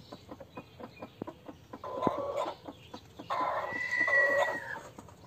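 A broody hen sitting on her eggs clucks close by, first in a run of short rhythmic clucks, then in longer loud, agitated squawking bursts.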